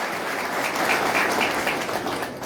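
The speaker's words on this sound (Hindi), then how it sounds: "सबकी जोरदार तालियां" Audience at a gathering of Uttarakhand migrants bursts into loud, dense applause that holds steady throughout, close and continuous with no speech.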